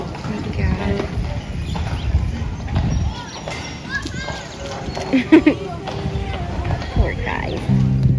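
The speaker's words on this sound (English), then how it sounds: "So the horses come up here and get a drink." Horses on Mackinac Island walking with clip-clopping hooves, faint and mixed under nearby talking and children's voices in an outdoor town setting.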